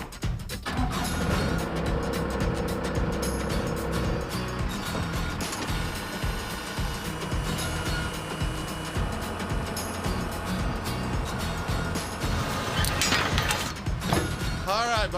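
A telehandler lifts and moves a shipping container onto squared, level corner blocks in a backyard, giving off a continuous mechanical clatter of creaks, ratcheting and engine hum. Voices talk faintly now and then over the machinery.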